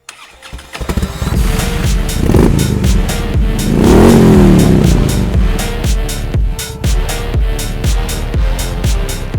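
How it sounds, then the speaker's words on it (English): A 2019 Harley-Davidson Sport Glide motorcycle engine fires up, then rumbles loudly nearby with a deep, throbbing idle and a brief swelling rev. "we'll be taking the Harley-Davidson 2019 Sport Glide for a ride"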